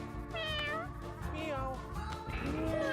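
Cartoonish cats meow in quick overlapping calls in the video game Mewgenics, several bright rising and falling mews over a busy game soundtrack.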